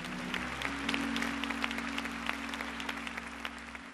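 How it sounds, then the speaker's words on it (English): A church congregation at a Church of God in Christ gathering applauding, a sustained patter of many hands clapping with a low organ tone holding underneath. "would you give yourselves a rousing applause?"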